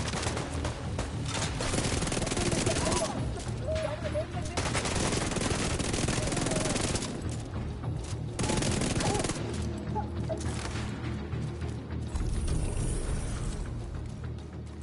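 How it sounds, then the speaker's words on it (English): Enemy gunfire in the shooter game The Division 2, sustained bursts of rapid shots and clattering mechanical weapon noise layered with loud game effects throughout, loud and continuous. "See, they're shooting at the decoy right now."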